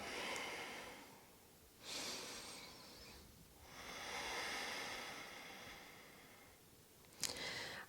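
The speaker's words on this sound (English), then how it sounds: "just finding a few rounds of breath here" Slow, audible breaths during a beginner-friendly slow flow yoga practice, with a few soft, airy inhales and exhales spaced several seconds apart in a quiet room. There is no talking.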